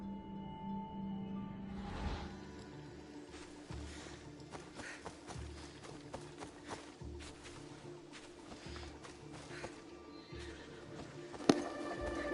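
A horse neighs in Assassin's Creed Odyssey, its whinny rising over game ambience and soft hoof steps, with a sharp louder accent near the end.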